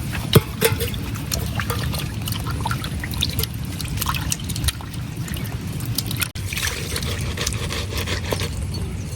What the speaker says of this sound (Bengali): এখন মাছগুলো ভালো করে ধুয়ে নিলাম।